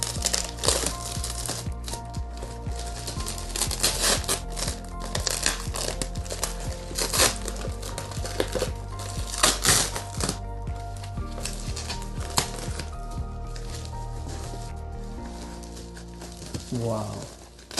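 Thermocol and bubble wrap packaging from an iPhone 13 Pro Max and MacBook Pro M1 delivery rustles, crinkles and knocks close by in irregular bursts of handling, with a person talking over it.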